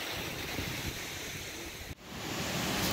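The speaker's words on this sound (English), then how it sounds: "the wind has changed a little bit westerly." Wind blowing outdoors, a steady broadband roar buffeting the microphone, dipping for a moment before gusting back up, with no talk.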